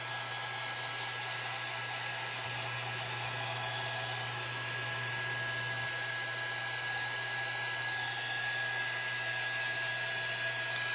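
A hair dryer blows on damp fabric, a loud continuous whooshing hum close by that shifts slightly in tone partway through, with no talking.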